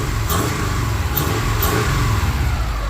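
A Subaru Impreza bugeye engine runs steadily in a garage with its exhaust hooked up, a low, even, fairly quiet rumble held throughout at close range with no talk.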